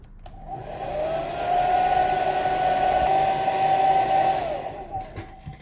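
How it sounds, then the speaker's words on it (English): Hair dryer blowing steadily at close range on a Samsung S24 Ultra phone's back during a charging board replacement, a whooshing rush and humming motor tone, spinning up then winding down after a few seconds. "After using our hair dryer"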